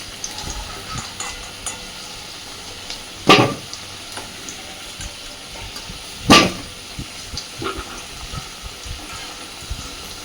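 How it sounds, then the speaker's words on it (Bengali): Potatoes fry in mustard oil in a kadai with a steady close sizzle, broken by two sharp louder bursts of spattering, and no voices. "আলুগুলোকে সুন্দর করে লাল লাল করে ভেজে নিয়েছি"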